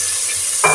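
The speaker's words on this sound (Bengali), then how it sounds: "এখন দিয়ে দেবো সামান্য একটু পানি।" A splash of water hits frying onions in hot oil, giving a sharp burst of sizzle near the end of a brief, steady frying hiss.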